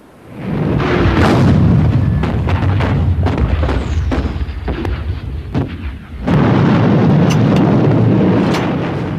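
German artillery bombardment of the French front at Verdun, 1,200 guns firing: loud, continuous rumbling booms and overlapping blasts with sharp cracks, a brief lull near six seconds before the thundering barrage resumes at full strength.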